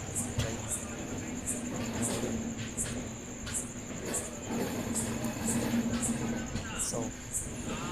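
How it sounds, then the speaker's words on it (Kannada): The Nanded–Bangalore Express pulls out of Guntakal station, with a steady rumble of rolling wheels, rhythmic clicks over rail joints and a brief metallic squeal, while someone speaks over the train noise. "ಇವಾಗ ಗುಂಟ್ಕಲ್ನ ನಾವು ರೀಚ್ ಆಗಿ ಡಿಪಾರ್ಟ್ ಆಗ್ತಾಯಿದೆ ನಮ್ಮ ಟ್ರೈನ್"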